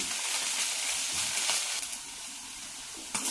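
Onions sautéing with green chilli and ginger-garlic paste for an egg curry sizzle steadily in a hot pan, a close, continuous bright frying hiss with a brief stir near the end and no talk.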